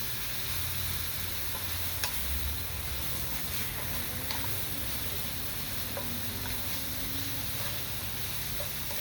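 Queen scallops sauté in a pan with sage and other herbs, making a continuous, even sizzle with light stirring scrapes and small pops, close by and without talk.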